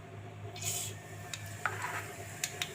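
Mustard seeds tipped into hot oil in a pan for tempering, a soft rushing pour followed by a low steady sizzle with a few faint sharp pops and clicks, near and quiet.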